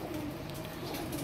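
High flyer pigeons cooing softly in a breeding room, a low continuous murmur of overlapping coos, faint and steady throughout.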